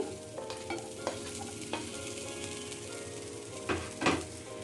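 Chopped onion goes into a hot pan of oil for a Bengali cabbage bhorta, giving a steady soft sizzle with occasional scraping stirs and a couple of louder clatters near the end, no voices.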